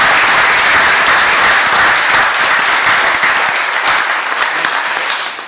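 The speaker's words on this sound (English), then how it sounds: "Let's give her a round of applause." Applause from the audience at a Charleston city council meeting as a proclamation names a day in a woman's honour. The clapping is dense and steady, fills the room, and fades slightly near the end.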